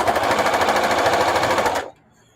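A sewing machine runs fast and steady, stitching ironed, starched and cut scraps of old jeans denim, a loud close rapid needle chatter that stops abruptly near the end.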